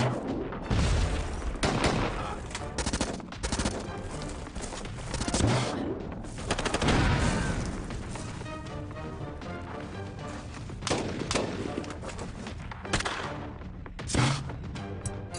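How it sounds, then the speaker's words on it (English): Repeated gunfire in an action movie, with bursts of shots and heavy impacts spread across a long, chaotic stretch, loud and dense over a rumbling background. "Just keep firing that thing"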